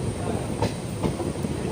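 A passenger train on the Pilibhit line rolls into a station platform. A dense, continuous rumble carries periodic wheel clacks over the rail joints, loud and close.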